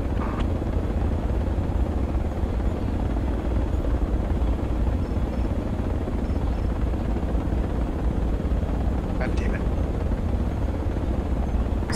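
A transport helicopter lifting off in the military game Project Reality, a loud, steady low rotor and engine roar that holds constant throughout, with a couple of faint brief clicks on top.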